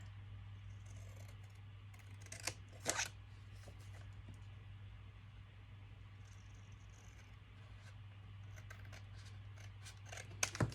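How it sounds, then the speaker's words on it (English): Scissors cutting cardstock for a notebook folio, a few crisp snips near the start and another cluster at the end over a quiet background hum, with no talking. "now I'm just going to eyeball it and hope I cut it straight"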